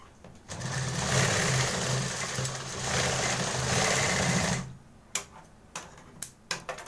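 A sewing machine runs steadily for about four seconds, stitching folded blouse fabric, then stops, followed by a few sharp clicks and handling knocks nearby.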